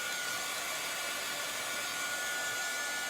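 A heat gun blows steadily at close range over chalk transfer paste on a canvas bag, a continuous hissing roar of airflow with no pauses and no talking.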